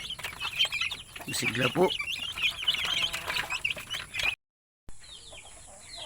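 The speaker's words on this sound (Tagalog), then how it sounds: "update po tayo sa ating mga alagang native chicken" Native chickens cluck and squawk busily close by, several birds calling over one another with a brief drop in sound partway through, while a person speaks briefly.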